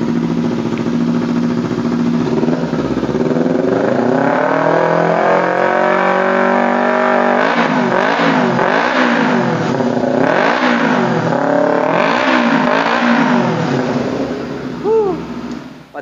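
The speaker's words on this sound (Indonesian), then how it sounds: "Suara knalpotnya gurih banget. Ciri khas dua silinder." A 2017 Kawasaki Ninja 250FI ABS SE two-cylinder motorcycle revs through a carbon racing exhaust, a steady idle rising into a long climb and then several quick throttle blips, loud and close, with a brief voice near the end.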